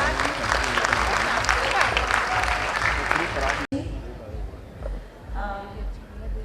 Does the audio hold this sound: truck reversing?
no